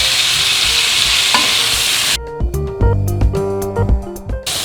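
Cooked Brussels sprouts, zucchini, sweet peppers and uncured turkey bacon are stirred together in a hot pan: a loud, steady sizzle first, then a run of close scraping and clattering stirs over a quieter fry.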